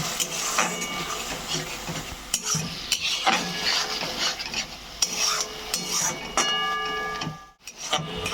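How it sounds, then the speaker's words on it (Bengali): Onion, garlic, ginger paste, green chilli and spices stir-fried in a little oil for an egg curry: repeated clattering scrapes and knocks of a spoon against the pan over a soft sizzle, with a brief lull near the end. "পেঁয়াজ, রসুন, আদা বাটা দিয়ে একটু কষিয়ে নিচ্ছি মশলা দিয়ে"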